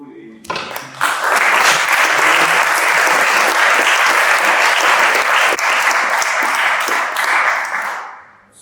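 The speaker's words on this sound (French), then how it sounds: "Je voudrais d'abord un peu remercier et applaudir chaleureusement Muriel Pénicaud" Warm audience applause at a French conference-debate on the future of work, a sustained dense wave of clapping from a large room that starts abruptly, holds steady for several seconds, then fades out.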